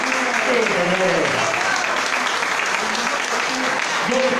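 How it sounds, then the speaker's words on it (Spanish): A live audience claps steadily for the full four seconds, a dense and fairly loud wash of hands with voices audible over and through it. "Un aplauso fuerte para las mujeres, de parte de todos los caballeros."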